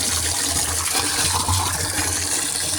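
Water gushing strongly from a drip irrigation pipe with no fitting attached, a steady loud rushing flow that continues unbroken throughout.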